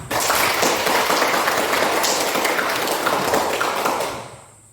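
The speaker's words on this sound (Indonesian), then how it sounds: "Tepuk tangan untuk semua." Applause from a school class of students fills the room, a dense even round of clapping for several seconds that tapers off at the end.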